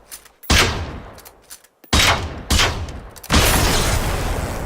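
Gunfire in a co-op video game: four loud, sharp shots ring out at uneven intervals, each leaving a long echoing tail, with the last blast sustaining into a dense roar.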